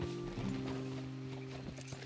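Horse hooves clip-clop steadily on the ground in Red Dead Redemption 2, a low rhythmic thudding under a droning music bed with sustained tones, moderately faint and without voices.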